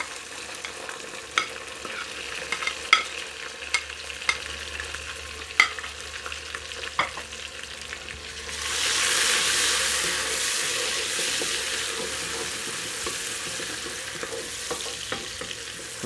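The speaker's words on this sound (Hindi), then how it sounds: "टमाटर को अब भूनेंगे हम अच्छी तरह।" Tomatoes fry in a pan for village-style moong dal, with soft stirring scrapes and then a loud, steady hissing sizzle as they hit the hot oil, close and without talk.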